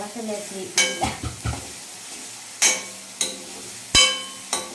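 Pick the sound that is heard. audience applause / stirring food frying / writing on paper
stirring food frying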